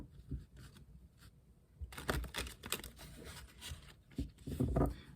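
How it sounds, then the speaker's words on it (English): A deck of tarot cards gets shuffled up close, scattered soft flicks at first, then a denser run of papery riffles and a thud of cards settling, quiet and without talk. "1 more shuffle."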